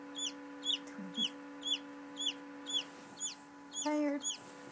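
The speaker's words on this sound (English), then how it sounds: "You hear a squeaking. That's a squawker." Newly hatched chicks from an incubated egg peep in a steady run of sharp, high squeaks about twice a second, close by, over a low electrical hum, with a brief burst of overlapping cheeps near the end.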